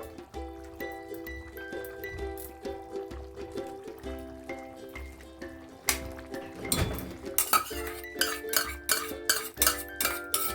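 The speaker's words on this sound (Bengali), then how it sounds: "দিয়ে ভালো করে নাড়াচাড়া করে দেবো" A utensil scrapes and clinks against a pan as fried onion is stirred into cauliflower, with scattered metallic knocks that grow busier and louder toward the end.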